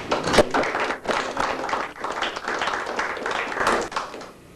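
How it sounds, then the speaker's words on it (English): A reunion audience of former radio squadron members gives a burst of steady clapping, a dense, lively patter of many hands filling the room for several seconds. "I say let's give him an applause."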